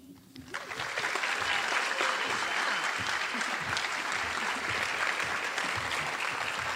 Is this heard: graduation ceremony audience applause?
yes